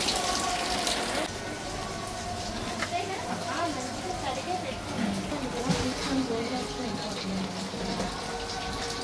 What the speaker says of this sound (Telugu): బయట చూడండి వర్షం ఎడతెరిపి లేకుండా వర్షం పడుతుంది.